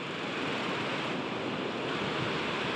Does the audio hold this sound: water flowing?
yes